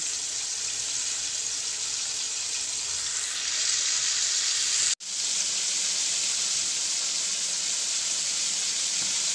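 Chicken pieces frying in hot oil until crunchy give a loud, steady sizzle and hiss that fills the whole stretch, briefly cut off by a sharp dropout midway before resuming at the same level.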